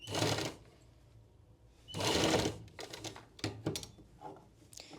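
A sewing machine stitches a blouse sleeve in short bursts, with three main runs of close, fast mechanical clatter separated by pauses and lighter clicks, and no talking over it.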